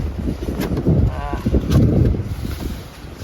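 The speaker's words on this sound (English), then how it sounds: "Got a typhoon blowing by, but we're not gonna get hit. We're just gonna get some of the wind." Strong wind from a passing typhoon roars and buffets the microphone outdoors, giving a loud, rumbling, uneven gusting with some brief creaking sounds mixed in.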